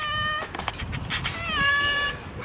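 A cat at a shelter in Kayseri gives two drawn-out, close meows, the second rising and wavering, with faint background shuffling between.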